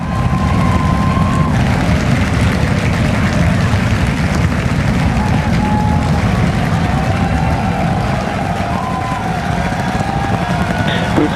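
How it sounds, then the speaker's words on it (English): SpaceX Starship Flight 10 lifts off, its rocket engines producing a sustained, loud, broadband rumbling roar that fills the scene without letup, heard at a distance through a broadcast feed. "And we have liftoff."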